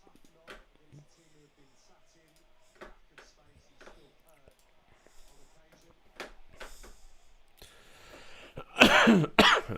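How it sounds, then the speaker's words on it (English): A man coughs several times while a football match between Huddersfield Town and Manchester City plays on a stream, short dry bursts scattered over quiet background, ending in a loud, harsh close cough with throat clearing. "I feel really bad with the coughing, but there's not much you can do about it"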